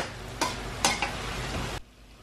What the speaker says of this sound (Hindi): ये देखिए अच्छी तरह भून रही हूँ मैं